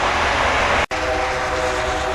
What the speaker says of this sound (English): Train coming down.